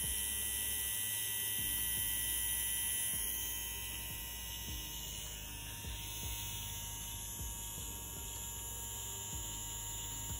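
A BRONC Hummingbird wireless rotary tattoo machine runs with low vibration, a steady close electric hum with a high whine that holds even and unbroken throughout, with no talking.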